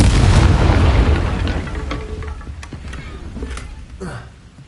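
A Confringo explosion spell blasts in the video game Hogwarts Legacy, a loud booming burst that rumbles and slowly fades over several seconds, with a few crackling debris sounds in its tail.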